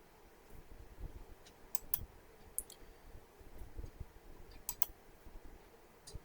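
Several sharp computer mouse clicks, isolated and fairly faint, spaced irregularly over a low steady room hum with no talking.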